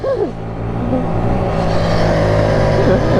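Mini bikes race off from a start near a skate park, small engines droning and revving close by in a rising, sustained buzz, with a brief voice at the outset.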